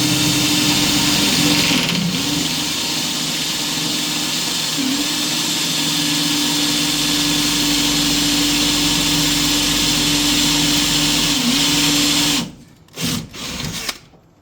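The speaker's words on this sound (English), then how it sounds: "So process is drill the bolt." A power drill drills into a bolt, running steadily at high speed for about twelve seconds, loud and close, then cuts off, followed by a few short clunks.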